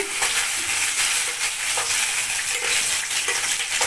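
Three halved large green chillies hit hot oil and fry with a loud, dense, close-up sizzle, crackling steadily with a few faint stirring taps over nearly four seconds.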